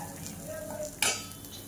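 Onion roasts in a pan for misal pav, with a soft continuous sizzle and a sharp metallic scrape of the spatula near the middle.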